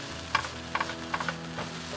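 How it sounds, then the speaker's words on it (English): Mixed vegetables with smoked paprika, cumin, salt, pepper and baby tomatoes sizzle in a frying pan at a campsite, with a few scraping stirs breaking the steady quiet fry. "Cook all those veggies together for a few minutes there."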